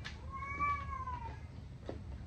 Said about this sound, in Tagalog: Gamaoy naman yung pusa namin.